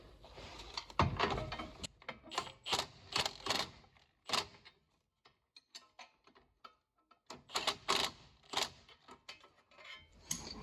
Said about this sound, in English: I've got my gear wrench, got my 19mm wrench here, and I've got my 19mm impact socket